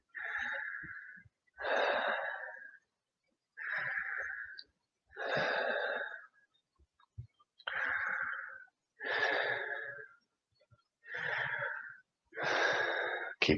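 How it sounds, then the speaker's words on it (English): Slow, deep breaths during restorative yoga come as long, airy inhales and exhales, close and evenly paced with quiet gaps between them. "Keep breathing."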